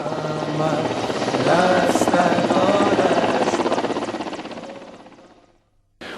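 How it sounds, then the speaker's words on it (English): A helicopter departs, its loud rotor thrum and engine whine filling the air, swelling then steadily fading into the distance before cutting off. "the film crew leave Saricha by helicopter"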